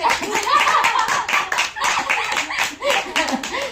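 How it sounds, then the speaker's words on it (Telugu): A small group in a saree shop claps in quick, uneven bursts, close by. Voices talk in between and over the claps. "క్లాప్స్ కావాలంటండి"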